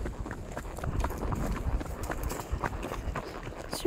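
A horse walks on a hard surface, its hooves clip-clopping in an irregular close rhythm, quiet and alone with faint outdoor background.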